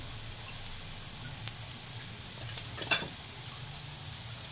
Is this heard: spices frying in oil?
yes